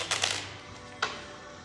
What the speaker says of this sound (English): This is a fresh deck, so it's gonna need a couple shuffles.